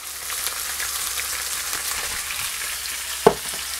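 Breakfast ingredients fry steadily in a single pan with black pepper added, a constant close sizzle broken by one sharp clink near the end.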